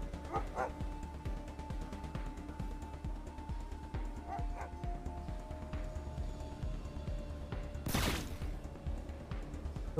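A dog barks, yips and whimpers during combat in the video game Wasteland 3, in short bursts over a dense, continuous bed of game noise and music.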